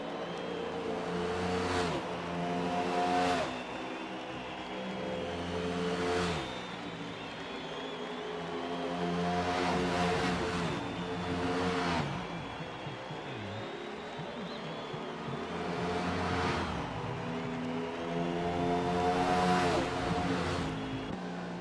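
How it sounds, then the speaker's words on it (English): NASCAR race car engines in a video game roar and whine past in repeated waves, rising and falling in pitch as they accelerate and fade, loud and continuous. "These cars sound pretty dang good."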